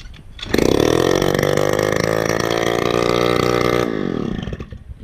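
A cheap used scooter's small engine catches after a repaired wire, then runs with a loud, steady buzzing drone that rises briefly and settles before cutting off near the end, close to the microphone.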